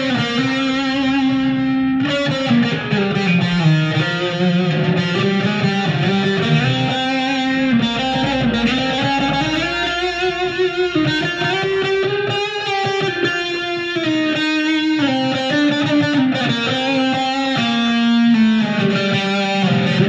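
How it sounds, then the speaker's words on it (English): An electric guitar plays steadily through an amp on its super crunch overdrive channel, giving a mildly distorted, loud, sustained tone with chords and melodic lines running for about twenty seconds. "So this is it on super crunch, or just a little more distortion, not a whole lot, but just some."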